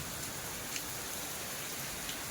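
Heavy rain pours down in a steady, dense hiss that holds evenly throughout, with no voices over it.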